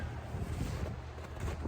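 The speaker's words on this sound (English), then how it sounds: "A little windy." Wind rushes steadily across the microphone at the Osage Overlook on a snowy mountain trail, a dense, close buffeting roar with no other sounds.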